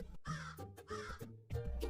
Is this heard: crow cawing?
yes